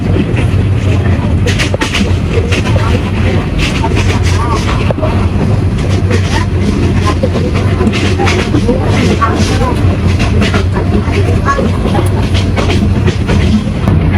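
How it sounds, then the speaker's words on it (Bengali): The Bijoy Express train rumbles steadily along the rails departing Jamalpur, Bangladesh, with continuous clickety-clack and loud broadband rolling noise, sustained throughout, with some voices faintly mixed in. "প্রায় পঁয়তাল্লিশ মিনিটের মতো লেট নিয়ে কিন্তু আমাদের বিজয় এক্সপ্রেস ট্রেনটি জামালপুর থেকে তার প্রথম যাত্রাবিরতি করার উদ্দেশ্যে ছেড়েছে"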